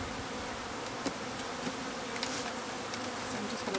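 A calm package of honey bees drones steadily, a dense unbroken buzz with a few faint knocks, moderately quiet and free of talk.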